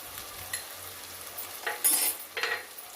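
Bitter gourd gojju seasoned with chili powder and salt is stirred in a pan, soft scraping and light sizzle at close range, with a few sharper spoon scrapes near the end.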